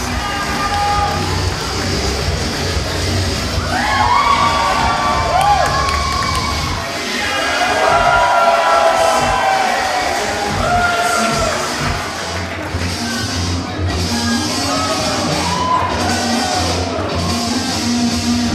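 A wrestling event crowd cheers and shouts continuously and loudly for the whole stretch, with high-pitched whoops and children's yells rising above the dense roar.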